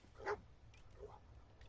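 A dog in the video game Fallout 4 gives a short yip or bark followed by a soft whimper, faint and brief over low game ambience.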